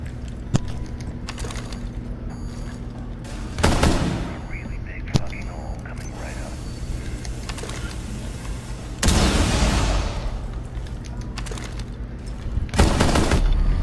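Gunfire in the tactical shooter Rainbow Six Siege: loud close bursts of rapid shots and single cracks over a steady game background hum, repeating several times across the stretch.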